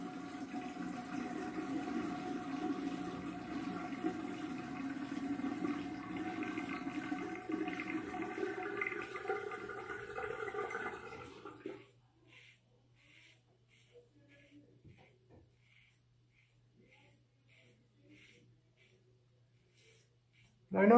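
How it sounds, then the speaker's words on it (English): Rinse water drains from a bathroom sink after a travel razor is rinsed, a steady gurgling rush for about eleven seconds that suddenly stops, leaving near silence with faint small drips. "Draining the water now."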